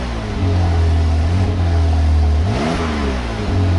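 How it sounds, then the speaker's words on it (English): A Porsche 911T engine takes a throttle blip, revving up with a rising then falling note from a steady low idle, loud and close with no talking. "So I just blipped the throttle."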